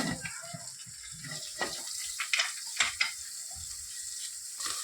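Onion drops into hot oil already seasoned with asafoetida and curry leaves, making a soft steady sizzle with scattered crackles and a few sharper spatters near the middle.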